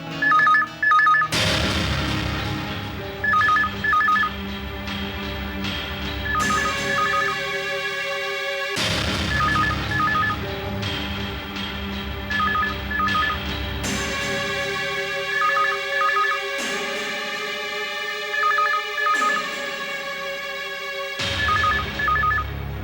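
A telephone ringing repeatedly in double trills, each ring cycle separated by a pause, over a background of dramatic music swells.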